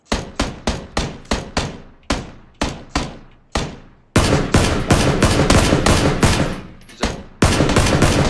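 Gunfire in the battle royale shooter PUBG (Battlegrounds), a loud near run of evenly spaced single shots that gives way to rapid sustained bursts with brief gaps.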